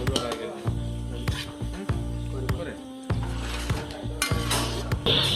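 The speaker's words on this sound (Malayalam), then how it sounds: "ഈ ബ്രൗൺ പരുവമായിട്ടുള്ള ഉള്ളി നമ്മൾ വേറൊരു പാത്രത്തിലേക്ക് കോരി മാറ്റി വെക്കുകയാണ്" Browned fried onions scooped from one pot into another, with repeated metal clanks and scrapes of a spoon against the pot at a steady pace while someone talks over them.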